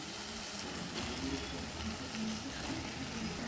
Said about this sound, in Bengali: এবার মশলার সাথে আলু আর পেঁয়াজটাকে ভালোভাবে কষিয়ে নেব।